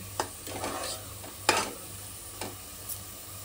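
Spoon stirring drumstick and potato curry in a pan, a few scraping strokes and sharp knocks against the metal over a faint sizzle and low hum, spaced about a second apart.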